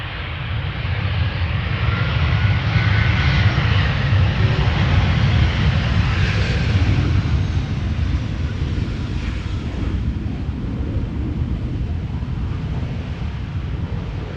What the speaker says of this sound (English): Vueling flight 1377 arriving from Alicante, A320, touching down after 2 hours and 45 minutes